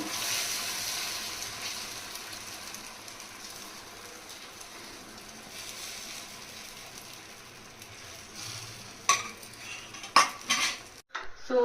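A spatula scrapes and spreads beaten egg across a hot tawa, with steady faint sizzling, soft metallic scraping and a few sharper clinks near the end.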